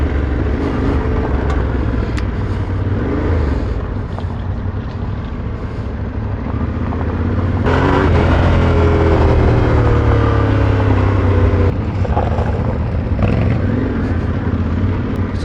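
Yamaha Tenere 700 Extreme 2024 adventure motorcycle on a manufacturer's test ride route, its engine droning loudly and steadily, rising in revs around the middle and shifting pitch as the bike accelerates and changes gear.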